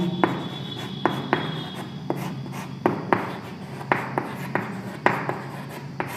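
Chalk or marker writing on a classroom board, a run of scratchy strokes with sharp taps at the start of each, steady and close for about six seconds with no talk.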